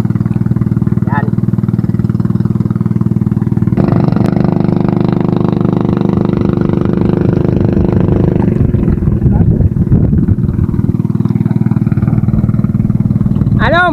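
A boat engine runs loud and steady on a boat carrying bamboo loads in an oyster-harvesting setting, with a droning motor whose pitch and intensity shift partway through, and voices speaking over it.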